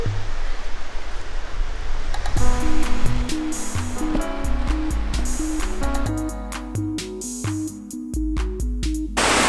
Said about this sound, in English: we got a cool waterfall, and it flows into this pond right here